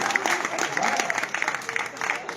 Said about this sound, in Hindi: ताली बजाते रहो यार।